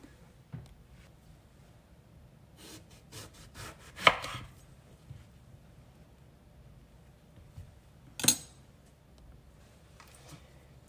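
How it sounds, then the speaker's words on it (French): Aubergines being sliced into rounds with a knife, close but quiet, with a few soft cuts and two sharper knocks of the blade on the board spaced several seconds apart. "je vais couper les aubergines en rondelles"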